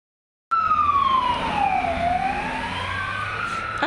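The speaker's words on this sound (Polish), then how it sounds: "I słychać też straż chyba pożarną." A wailing emergency siren, probably a fire engine, sweeps steadily down and then back up in pitch. It is loud and continuous and sounds fairly close, with traffic rumble underneath.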